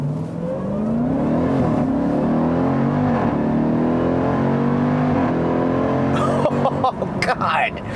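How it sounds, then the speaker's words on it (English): A 2018 Jeep Trackhawk, a 707 hp SUV, holds a steady deep engine drone close by during an all-wheel launch-control burnout, its pitch rising gradually before ending in sharp bursts near the finish. "I will never get tired of just trying the launch control out and just listening to all 4 wheels do that burnout"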